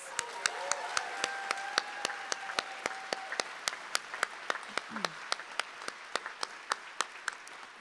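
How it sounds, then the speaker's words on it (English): Audience applause at a Veterans Day commemoration at the Reagan Library, a sustained, moderately distant round of clapping with sharp individual claps standing out regularly, and a brief voice heard near the start. "Can we give them all another round of applause?"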